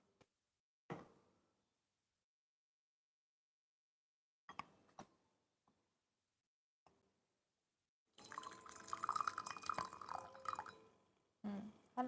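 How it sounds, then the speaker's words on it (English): Aged raw Pu'erh tea rinsing infusion being discarded, a few faint isolated clinks and drips followed by a short, closer splash and trickle of liquid being poured away. "With this rinsing infusion, we don't drink it. We uh, discard this rinsing infusion."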